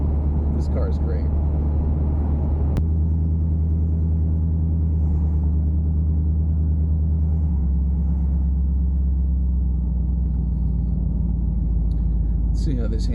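An old barn-find Buick, driven after sitting unused for years, gives a steady low engine rumble from inside the car, holding a constant droning tone throughout.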